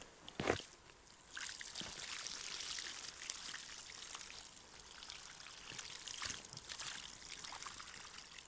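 Water is poured out at a tent camp in bad weather, a soft splashing trickle that gushes briefly near the start, then runs as a faint, steady stream with scattered drips.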